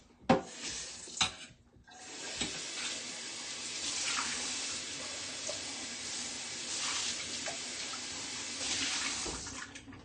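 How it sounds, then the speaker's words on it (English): A bowl from making chocolate peanut butter chia seed pudding is rinsed under a running kitchen tap, a steady close rush of water after a few knocks and clinks at the start. "I'm going to rinse this out"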